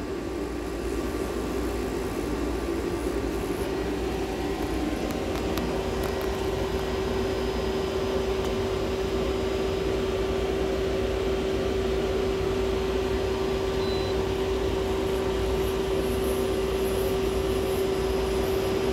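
An Okuma CNC lathe running without a tailstock moves its Z axis inward, giving a loud, steady machine drone with a constant whining tone throughout and no talk.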